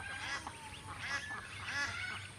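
Ducks kept in a large farm enclosure give faint honking, nasal calls in a few scattered bursts, heard at a distance over quiet background noise.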